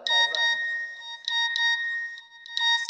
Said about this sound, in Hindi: चलिए यहाँ पे सुन लेते हैं, मुकेश भाई का गाना आ चुका है,